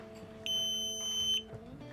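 A bright electronic beep from a buzzer on a Makey circuit board holds steady for about a second, sharp and close, over a low background hum.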